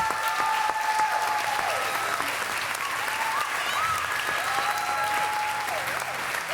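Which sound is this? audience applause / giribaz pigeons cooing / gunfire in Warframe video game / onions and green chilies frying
audience applause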